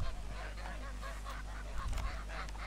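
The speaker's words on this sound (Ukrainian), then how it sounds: "Гуси на полі, теж вболівальники." Geese on a football pitch during a match honk repeatedly in overlapping calls against steady low background rumble, moderately loud and fairly close.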